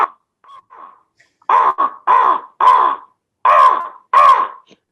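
A voice imitates a crow's caw, giving a run of loud, harsh, nasal calls in uneven bursts after a few softer starts, each caw close and clear with silence between.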